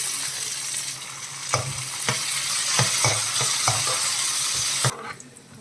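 Curry leaves and garlic frying in a pan for garlic chicken curry, a steady close sizzle broken by several sharp spoon-on-pan scrapes and taps, cutting off abruptly near the end.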